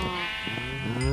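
Sheep in Minecraft bleating, a wavering nasal bleat heard fairly faint over a quiet background with a second brief bleat near the end.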